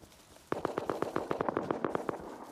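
Gunfire in the video game Rust rattles off in a rapid burst of about a dozen sharp shots, distant and fairly faint, with no talk over it.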